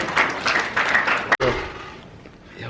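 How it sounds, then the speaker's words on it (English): Audience applause at a school assembly, a dense patter of clapping that fills the first half, broken by a sharp thump, then fading into quieter room noise. "Can we give Devontae another round of applause?"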